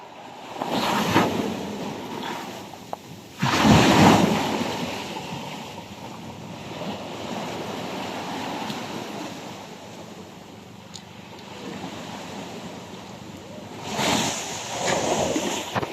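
Heavy surf roars and swells steadily, with louder crashes now and then and wind buffeting the microphone throughout.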